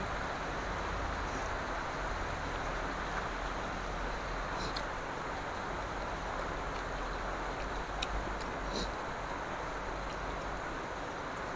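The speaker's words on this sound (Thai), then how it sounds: "ฝนตกนะ" Steady rain falls throughout as a dense, even hiss with a few faint clicks and no speech.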